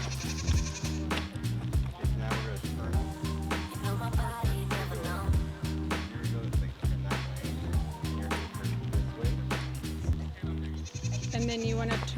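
Weaned goat kids bleat repeatedly through a long, busy stretch, with a person talking over them at times.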